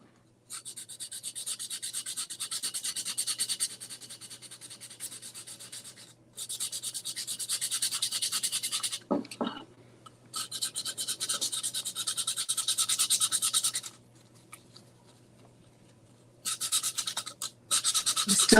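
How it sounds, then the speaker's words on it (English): A small slice of sandpaper is rubbed by hand over a craft piece, making steady, close, raspy strokes in several long passes separated by short pauses, with a constant low hum underneath. "going to just grab a little slice of sandpaper"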